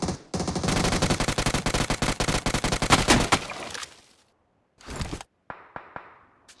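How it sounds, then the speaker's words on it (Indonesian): Rapid automatic gunfire in a battle royale video game, loud sustained bursts for several seconds, then silence followed by a short burst and a few isolated single shots. "Saya ditembak dari rumah lumut."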